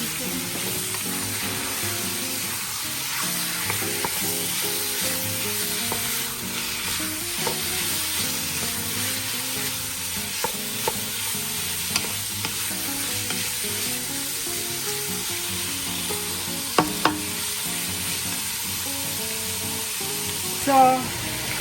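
Chicken sautés in a pot for Filipino sopas, giving a steady close sizzle under scraping stirring strokes, with a few sharp clinks of a utensil against the pot near the end.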